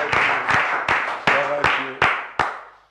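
A congregation at a French-language Christian church service claps in unison, seven or eight crisp, evenly spaced claps ringing out in a steady rhythm, with a brief sung or spoken tone underneath.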